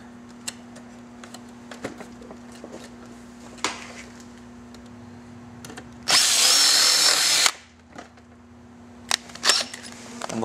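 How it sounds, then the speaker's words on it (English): A power drill bores through a hole while fitting heated grips on a Victory Vision motorcycle: faint clicks and a steady low hum lead to one loud, close burst of drilling lasting about a second, then scattered handling taps. "Flip it over and finish drilling on this side."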